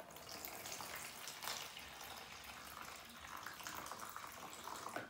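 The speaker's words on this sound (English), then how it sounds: "So I'm just gonna put the water in." Cold water poured into a self-heating hot pot, a steady soft splashing stream that runs faint and continuous before cutting off at the end.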